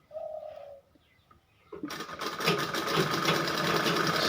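A few faint bird coos and quiet handling sounds come first, then a sewing machine starts up close and runs continuously, stitching blouse fabric with a steady, rapid mechanical chatter.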